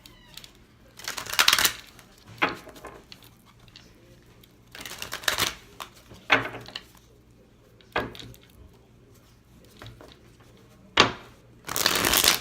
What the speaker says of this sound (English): I'm gonna shuffle the deck